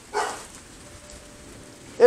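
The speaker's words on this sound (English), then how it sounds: "It is raining like a motherfucker out here." Steady heavy thunderstorm rain in Denver, Colorado patters on a surface throughout, with a brief voice burst near the start and another at the very end.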